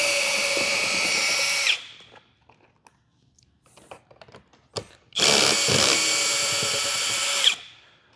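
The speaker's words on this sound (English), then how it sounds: "Now you don't need a drill for this, you can do it by hand." A power drill whirs in two loud bursts of about two seconds each, removing screws from a 2026 Jeep Grand Cherokee door panel, with faint clicks and rattles in the pause between.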